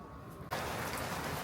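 Heavy rain comes down suddenly, jumping from a quiet hum to a loud, dense, steady roar of downpour that fills the rest of the moment.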